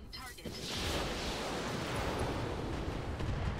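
Heavy weapons fire in a mech combat game, a continuous roaring barrage of blasts and booms that swells after a brief lead-in and stays loud throughout.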